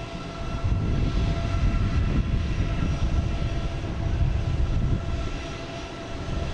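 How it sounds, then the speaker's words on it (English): An Alaska Airlines jet engine spools up at Boston Logan, a low, steady roar with a faint whining tone, heard from a moderate distance and swelling slightly before easing off, with no talk. "Got Alaska Airlines just started up here"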